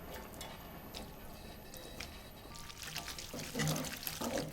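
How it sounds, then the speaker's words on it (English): Starchy pasta water is poured from a pot into clam juices in a paella pan for linguine with clams: a soft, close splashing pour that builds over the last second or two above a quiet kitchen hush. "A little pasta water,"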